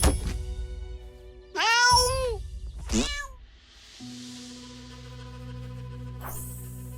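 A cat in South Park: The Stick of Truth lets out two distinct meows a second apart, fairly loud and close, followed by a low steady hum and a faint click.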